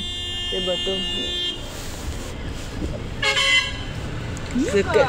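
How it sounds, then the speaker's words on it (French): A car horn toots in short bursts near a toll booth in Cameroon, sounding over road traffic noise while people talk. "C'est quelle qualité de klaxon comme ça?"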